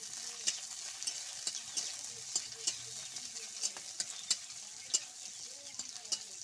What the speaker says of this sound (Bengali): পেঁয়াজটা লাল করছি।